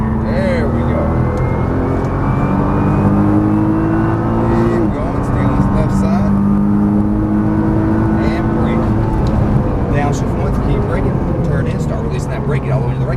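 A Nissan GT-R accelerates hard along a track straight and then brakes, its engine droning loud and steady with rising harmonics throughout, while an instructor talks over the sound.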